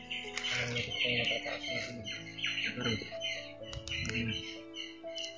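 Sharp bird squawks and calls sound repeatedly in quick bursts, with soft clicking and tapping noises in between.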